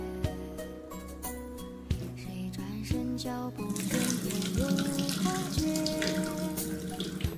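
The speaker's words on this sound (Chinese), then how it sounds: "泡好的大米洗一下" Running water from a tap pours steadily over soaked rice, with a louder continuous wash in the second half and a few clinks of rice and bowl, heard alone and up close.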